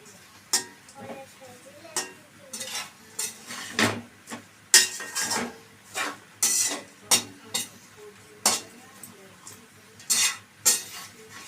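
Food frying on low heat in a pan, stirred with a metal spoon that scrapes and clinks against the pan in a steady irregular rhythm over a soft sizzle, close by.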